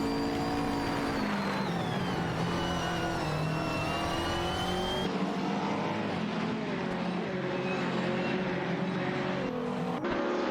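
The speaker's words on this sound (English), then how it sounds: "Keep those engines roaring." Race car engines roar steadily through a racing video game, a dense tonal drone whose pitch sweeps up and down as cars rev and shift, continuous and loud throughout with no talk.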